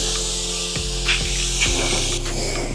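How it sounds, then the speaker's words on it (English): A pressure washer sprays down a Porsche GT3 RS covered in paint protection film, a loud, close, continuous hissing rush over the machine's steady motor hum, with a few brief shifts as the jet moves. "It's like to thoroughly spray everything down."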